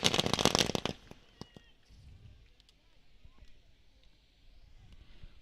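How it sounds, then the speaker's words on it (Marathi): Fireworks go off for guests at a village cricket tournament: a dense, loud crackling burst at the start, then scattered faint pops over outdoor ambience and background voices. "त्याच पाहुण्यांसाठी ही फटाक्याची आतिषबाजी झाली आहे"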